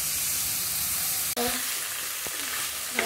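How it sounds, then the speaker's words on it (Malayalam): Bitter gourd sautéing with onion, tomato and chilli for pavakka thiyal: a steady close sizzle throughout, with a few scraping stirs of a spoon against the pan. "അരി വെച്ചിരിക്കുന്ന പാവയ്ക്കയും കൂടെ ഇട്ട് ജസ്റ്റ് ഒന്ന് വഴറ്റിയെടുക്കാം"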